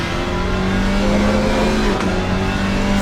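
A Porsche GT4 race car accelerating away under power at Zolder circuit, a loud sustained engine roar with rising tone and a brief passing swell, continuous throughout.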